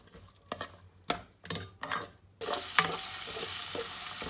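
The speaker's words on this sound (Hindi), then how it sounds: "पैन में हम लोगों ने थोड़ा सा ये घी डाला है और इसके अंदर प्याज डाल देंगे।" Onions hit hot ghee in a pan, a few soft stirring scrapes giving way to a sudden loud, steady sizzle up close.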